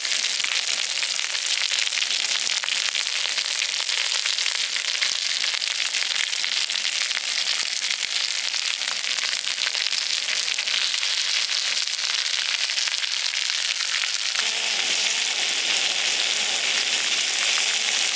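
Pomfret fish frying in hot oil, a loud, continuous sizzle with dense crackling and spitting that holds steady throughout, close to the pan with no talk.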